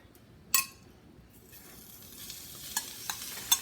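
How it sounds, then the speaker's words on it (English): A pound of bacon drops into a large pot over medium-high heat with a sharp clink, then a soft sizzle builds steadily, broken by a few light metallic taps. "We're going to add in a pound of bacon."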